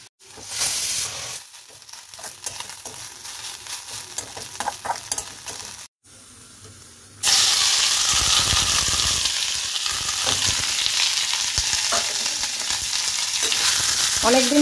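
Chicken fries in a small amount of oil with a quieter crackle and scattered clicks at first, then a brief near-silence, then a sudden loud and steady sizzle that lasts to the end.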